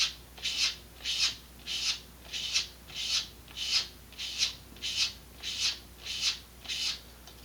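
Sandpaper rubbed over model rocket parts, ten or so even back-and-forth strokes in a steady rhythm, close and clear with no talk.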